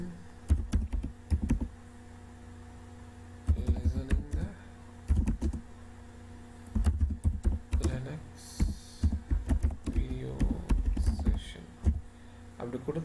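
Bursts of typing on a computer keyboard at a Linux command line, quick clusters of close, crisp key clicks separated by short pauses over a low hum.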